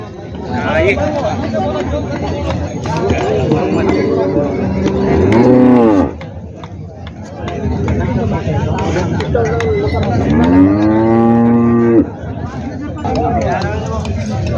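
Cattle moo loudly and repeatedly at a crowded cow market in Parbhani, Maharashtra, two long drawn-out calls standing out close by over constant crowd chatter and background bustle.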